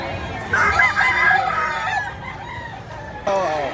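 A rooster crows loud and close at a gamefowl market in Lipa, Batangas, followed by another crow starting near the end, with market hubbub behind.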